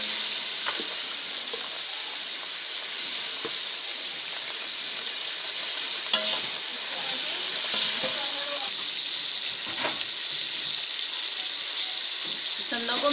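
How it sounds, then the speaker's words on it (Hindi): Beef pasanday slices sizzling and frying in a spice masala, a steady broadband hiss filling the whole stretch with occasional sharper crackles and pops, close and continuous with no talk. "अब हम इसमें पसंदे डाल देंगे।"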